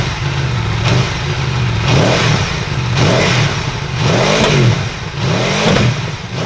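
A 2018 Aprilia Tuono Factory motorcycle with its stock exhaust, in sport mode, revs repeatedly, loud and close, each throttle blip rising and falling in a regular rhythm over several seconds.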